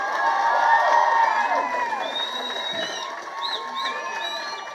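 A crowd of young people at a student protest over NEET coaching cheers, claps and shouts continuously, close and loud at first and then easing slightly, with scattered whoops over the noise.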